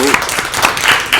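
Dense audience clapping at a book event, a brief burst of loud, overlapping applause heard up close.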